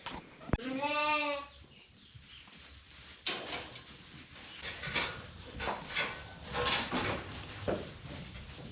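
Sheep in a barn pen about to be turned out, one clear bleat rising early and then fading, followed by shuffling, thumps and rustling movement of the flock nearby.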